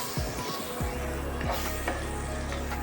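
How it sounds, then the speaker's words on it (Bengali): Butter melting in a hot pan for a chicken and vegetable dish gives a steady, close sizzle and crackle, with a few soft scraping or stirring knocks near the start. "বাটারটা মেল্ট হয়ে যাচ্ছে"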